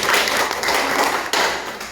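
Church congregation at a missionary report meeting clapping for a returning worker, a short burst of dense applause with a sharper thump partway through, close and fairly loud, no voices.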